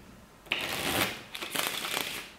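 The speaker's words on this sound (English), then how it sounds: "Cut, shuffle this way," A deck of playing cards is cut and shuffled during a card trick, giving a continuous close riffling and rustling with a few sharper flicks.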